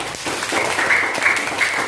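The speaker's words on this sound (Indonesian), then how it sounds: "Tepuk tangan dulu" A school class of children claps together, a brief burst of dense, close applause that stays fairly even throughout.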